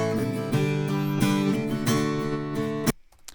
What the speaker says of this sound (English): And I have an acoustic guitar that sounds like this.